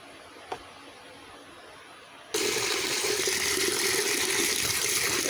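Tap water gushes steadily over pointed gourd and fish in a sink, starting abruptly after a quiet stretch with one small knock and then running loud and continuous.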